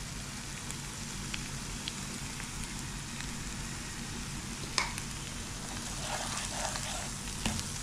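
Onions frying with turmeric powder in a pan give a low, steady sizzle and crackle, with a few faint scrapes and taps of a spoon now and then, and no one talking.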